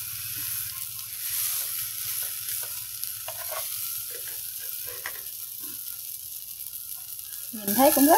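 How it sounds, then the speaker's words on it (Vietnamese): Vegetarian rice paper grilling in a non-stick pan gives off a soft, steady sizzle with light scraping and crackles, fairly close, with a brief louder clatter at the end. "còn ở đây là mình nướng bằng cái chảo chống dính"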